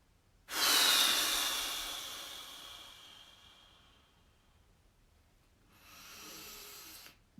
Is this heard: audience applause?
no